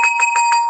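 A hand bell rings in quick repeated strokes, about four bright metallic chimes in under a second, each leaving a sustained ringing tone; no talking.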